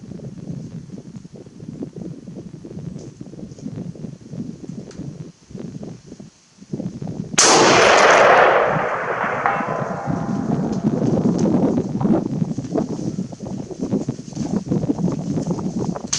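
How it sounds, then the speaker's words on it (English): A Springfield M21 rifle fires a single shot aimed at a 500-distance target. The sharp, loud blast is followed by a long, rumbling echo that rolls on over wind and rustling outdoor noise. "So let's shoot one more at 500."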